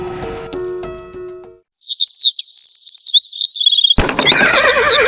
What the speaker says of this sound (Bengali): পাখির ডাক ধীরে ধীরে মিলিয়ে যাচ্ছে